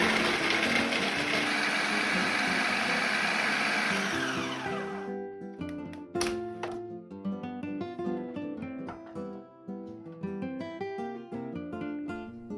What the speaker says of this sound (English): into a blender or food processor, we'll add 3 to 4 medium-sized, roughly chopped carrots and we'll blend them really well